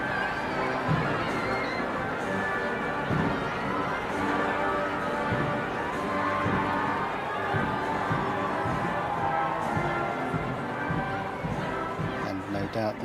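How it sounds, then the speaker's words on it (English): A large crowd advancing toward the gates of Buckingham Palace on coronation day for King Charles III, a dense steady roar of chatter, shouts and footsteps filling the whole stretch at a constant level. "Crowds are now being allowed to advance towards the gates of Buckingham Palace."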